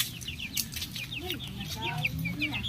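Chickens cluck and chatter close by in soft, irregular bursts over a low background hum.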